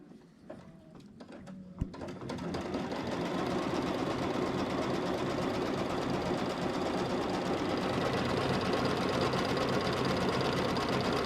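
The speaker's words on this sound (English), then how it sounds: "put this in your machine and run the next step, which is step 3, which will sew a line of stitches" A sewing machine stitches a line of seams on a shark's tooth purse, starting after a few quiet clicks and then running continuously with a loud, even mechanical whir close by.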